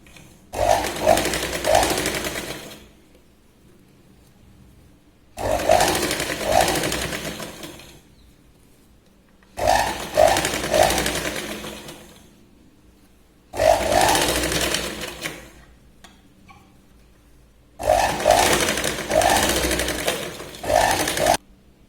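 A sewing machine double stitches a blouse sleeve in five separate runs of fast, loud whirring and clatter, each lasting a few seconds and split by near-silent gaps.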